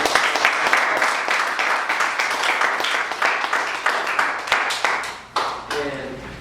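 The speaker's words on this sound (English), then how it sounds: "I would like to first give a round of applause to all of those brothers and sisters that came before us and spoke" A crowd applauds at a lecture, dense clapping sustained and loud throughout before thinning out near the end.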